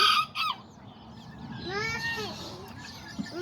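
An older game rooster calls with a rising and falling crowing cry near the middle, amid other fowl clucks and background farmyard noise.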